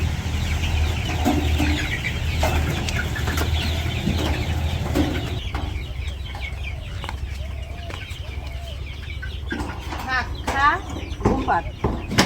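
Chickens cluck near feed in a village yard, a steady mix of close clucks and scattered bird calls, with people talking over parts of it.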